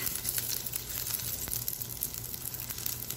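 Cinnamon bark, fenugreek and other whole spices tempering in hot oil for a Sri Lankan garlic curry: a quiet, steady frying sizzle with faint crackles, no voices.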